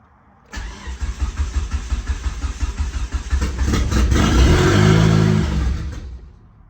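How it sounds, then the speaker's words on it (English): A car engine, not run for a decade, cranks on starter fluid with a choppy, rhythmic starter sound, then catches and roars loudly into a rough, steady run before cutting off. "I put a little starter fluid in there. Let's see if it'll start up here."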